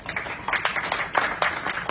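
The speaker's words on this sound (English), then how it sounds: "Big round of applause." Scattered clapping from a seated audience at a SIIMA awards press meet in Singapore, an uneven patter of hands that rises and falls in loose bursts at moderate volume.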